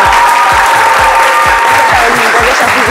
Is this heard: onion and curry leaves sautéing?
no